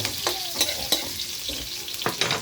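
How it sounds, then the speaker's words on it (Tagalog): Garlic and onion sautéing in a pan, a lively close sizzle broken by several sharp spatula scrapes and clinks. "lutuin lang natin yung bawang sibuyas"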